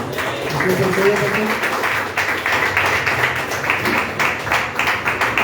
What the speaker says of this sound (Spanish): Recíbalo con un fuerte aplauso, mis hermanos.